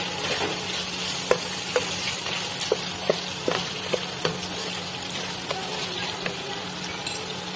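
Mutton curry fries in a pot while a spoon stirs it, a steady sizzle broken by regular light scraping knocks about every half second, close and moderately loud, without talk.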